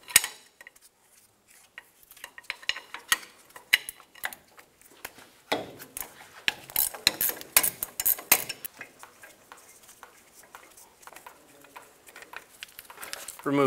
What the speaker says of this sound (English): Remove the brake caliper bolts using a 17mm